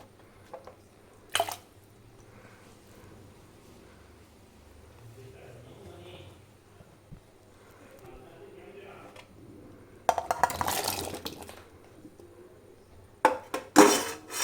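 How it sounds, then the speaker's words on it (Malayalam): Ash gourd pieces drop into lime water in a pot: a soft voice talks at first, then bursts of wet splashing and plopping come near the end, with an earlier lone clink. "നമുക്കിനി ഇതിലേക്ക് നമ്മുടെ കുമ്പളങ്ങി ഇട്ട് കൊടുക്കാം"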